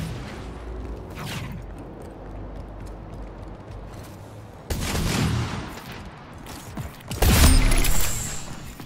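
Gunfire in the sci-fi shooter Splitgate, with a steady mechanical background, bursts of shots around five seconds in and a louder, closer volley near seven seconds.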